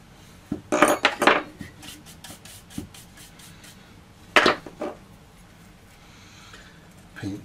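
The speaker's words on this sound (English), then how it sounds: "And just carry on down the ridge here, just gently scratching it off as we go." Ceramic greenware being gently scratched clean along a ridge, heard as a few close, dry scraping strokes in short bursts separated by quiet pauses, with no talking.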